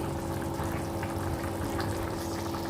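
Water pours steadily into a pot of crab curry on a wood-fire stove, a constant splashing rush close by; no talk.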